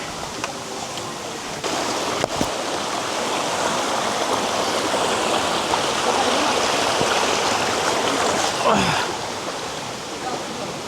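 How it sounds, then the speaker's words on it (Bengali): Shailgong waterfall in the hills of Bandarban, Bangladesh, pours as a steady, loud wash of rushing water that fills the whole stretch, with a few faint knocks and brief bits of human voice near the end. "আমরা এখন পৌঁছে এসেছি শৈলগং ঝর্ণায়"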